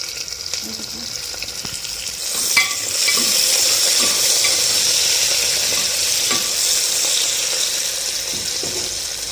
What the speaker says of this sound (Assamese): ইলাচি কেইটা মই ভাজি দি দিছোঁ।